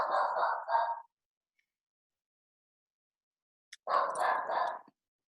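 A dog barks in two short bursts, the first at the start and the second after a few seconds of silence, fairly close and clear, with no talking over it.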